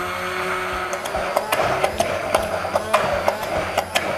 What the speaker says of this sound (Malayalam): നമുക്കിതൊന്ന് നന്നായിട്ടൊന്ന് ബ്ലെൻഡ് ചെയ്തെടുക്കാം